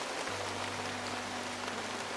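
Rain falls steadily in the mountains, a dense even hiss of drops alongside a low constant hum, with no voices.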